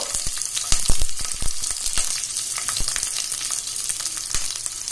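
Capsicum pieces frying in oil over a high flame, a loud, dense crackling sizzle with rapid popping bursts, close and continuous, no one talking.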